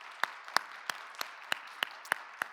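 At a Sunday young-adults church service, the congregation claps to welcome two pastors, heard as a small, faint round of about eight distinct, evenly spaced claps in a quiet room.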